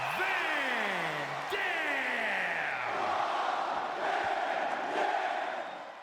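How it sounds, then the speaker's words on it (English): A wrestling arena crowd in WWE 2K24 roars and chants for Rob Van Dam as he makes his entrance. The loud, steady roar carries shouts throughout and never drops off. "the crowd roaring, saying his name"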